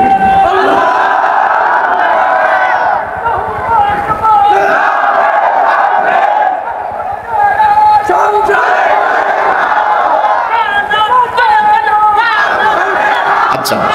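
Large crowd at an Islamic religious gathering shouting a takbir chant together, a loud, sustained wall of massed voices filling the whole stretch with surging, overlapping shouts.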